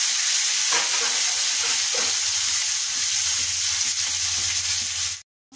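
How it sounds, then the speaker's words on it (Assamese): Onions fry in hot oil with a loud, constant sizzle and an occasional stir, ending abruptly in silence. "পিঁয়াজটো অলপ ৰঙাকৈ অলপ ভাজি লওঁ।"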